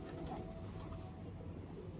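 Pigeons cooing faintly in soft low murmurs amid steady background noise, at a pigeon-keeping spot.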